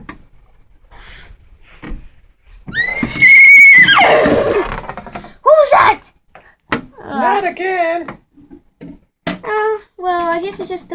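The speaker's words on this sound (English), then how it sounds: "I guess it's just the horses getting so happy that we saved them." Several horses at a stable in a video game neigh and whinny in loud, shrill bursts spread across the stretch, with faint wooden rubbing and hoof sounds between the calls.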